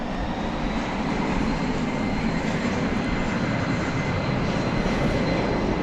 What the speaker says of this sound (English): here we go with the Trijet off to its home base at the World Port in Louisville